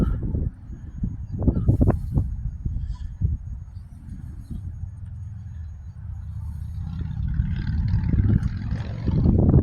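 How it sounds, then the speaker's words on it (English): The engine of a 1995 Isuzu Fargo 4x4 motorhome rumbles and revs up and down in uneven surges, close and loud with some rattling and a slipping fan belt at high revs, rising toward the end. "He revs it up a bit more than I did."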